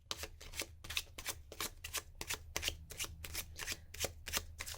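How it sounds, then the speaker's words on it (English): Tarot cards being shuffled close up in quick repeated riffles, a rapid rhythmic flutter of crisp snaps with no talking. "I like to show the cards shuffling."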